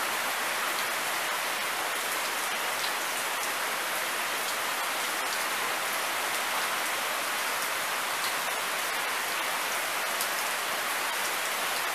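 Steady rain falls outside in Ahualoa, a dense, even hiss of drops on surfaces that holds constant and fairly loud throughout, with no voices.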